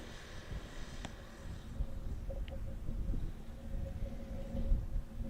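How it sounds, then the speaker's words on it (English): A United Airlines plane approaching Amsterdam Airport gives a low, steady engine drone at moderate distance, rising slightly over a few seconds, with no talk over it. "We do have a United Airlines coming our way"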